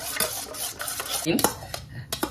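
Potatoes and egg fry in a pan while a utensil stirs and scrapes against the metal. Busy clinks and scrapes sit over a close sizzle, with a few louder knocks toward the end.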